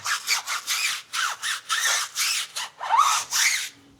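A tire sidewall being scrubbed with a brush, about a dozen brisk back-and-forth strokes in a steady rhythm, close and fairly loud, with a brief faint hum at the end.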